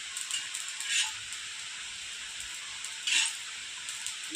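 Thalipeeth frying in oil on a pan gives a soft, steady sizzling hiss, with two brief louder bursts of crackle, heard close by and without any talking.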